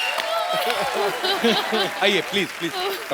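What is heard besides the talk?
studio audience applause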